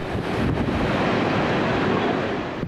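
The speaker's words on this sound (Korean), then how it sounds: "바다로 나가려는 배는 높은 파도에 떠밀려 위험천만한 모습으로 흔들리는데요" Loud, steady roar of wind and 3 m waves crashing on the North Atlantic coast at Nouakchott, with constant rumbling noise filling the whole clip.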